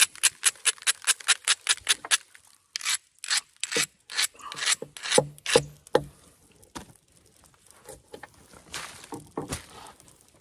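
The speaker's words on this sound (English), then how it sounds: "I have to grind down again." Stone grinding against the edge of a Kineo rhyolite flint-knapping preform, starting as a rapid, evenly spaced series of close raspy strokes, then slowing into irregular heavier scrapes, with no talking.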